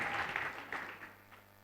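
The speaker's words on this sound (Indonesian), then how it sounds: "boleh tepuk tangan" A church congregation applauds, faint and distant, in a short burst of claps that thins out and trails off.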